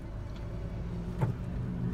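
Road traffic moving through Pagbilao near Lucena, Quezon, a steady low engine rumble of passing cars heard from inside a vehicle, with one brief louder swell midway.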